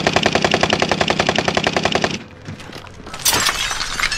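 Rapid automatic gunfire from Call of Duty: Modern Warfare rattles loud and close for about two seconds, then drops to quieter game ambience before a sharp burst of noise near the end.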